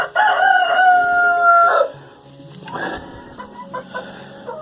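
A Speckled Sussex hen and other chickens in a backyard coop, with a loud, close rooster-like crow lasting almost two seconds, followed by softer clucks and scattered rustling.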